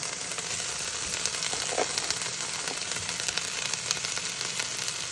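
Sweet peppers and onions sautéing in a teaspoon of oil make a steady moderate sizzle with a few faint stirring clicks, heard alone without talk.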